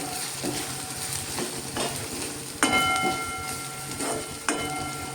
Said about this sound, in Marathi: आणि व्यवस्थित हा परतून घेतोय.